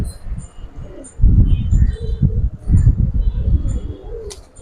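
Pigeons in a loft give low, throaty rolling coos in repeated bursts close by, with faint chirps above them and little talk.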